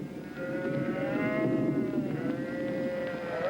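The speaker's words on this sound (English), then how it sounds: "What a sound those cattle make." Cattle moo in long, drawn-out calls that rise and fall, fairly close, with no voices present.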